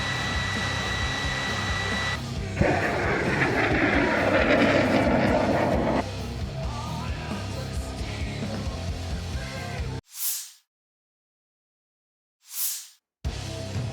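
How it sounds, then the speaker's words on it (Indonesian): A military drone flies in a combat zone, making a steady, loud buzzing engine drone that swells for a few seconds and then holds before cutting to silence with brief bursts. "Беспилотник."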